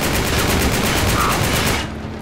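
Rapid bursts of gunfire from the video game Uncharted 3: Drake's Deception rattle loudly and continuously, a dense fusillade that cuts off abruptly near the end.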